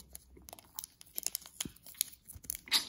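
Plastic packaging around a Magic: The Gathering card purchase being torn and crinkled open, with an irregular run of sharp rips and rustles close by, growing louder toward the end.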